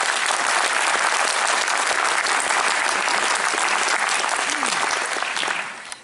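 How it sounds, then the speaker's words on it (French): Loud, dense applause from a festival audience at an Italian film festival evening, honoring the volunteers; the sustained clapping fills the room close-up, then begins to fade out at the end. "je voudrais les applaudir."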